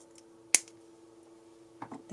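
Excess wire is snipped off while an earring is being made. One sharp, close click of the cut stands out against a quiet background, followed by faint small handling ticks.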